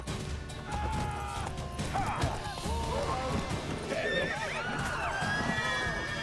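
A horse whinnies in The Witcher 3 video game amid clip-clopping hooves, crashes and scuffling fight noises, with a voice talking over the busy mix.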